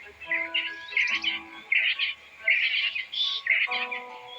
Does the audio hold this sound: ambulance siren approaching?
no